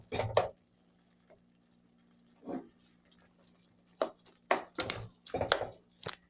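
Homemade Tex-Mex sloppy joe with jalapeño peppers and mushrooms simmers in a pan while still watery, giving sporadic close bubbling pops and wet bursts separated by quiet gaps over a faint low hum.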